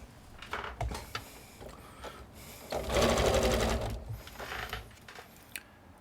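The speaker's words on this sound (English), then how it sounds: "then just sew that all down" A sewing machine stitching folded fabric trim on apparel, close and loud, running in uneven bursts with a sustained fast run in the middle and brief mechanical clatter between stretches.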